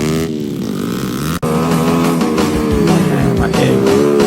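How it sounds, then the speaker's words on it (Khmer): Modified motorcycle rigged to haul a load, its engine droning steadily and close throughout with rough harmonic rumble and a brief dropout partway. "មានតែម៉ូតូមួយកែច្នៃដឹកបានដូចគ្នា"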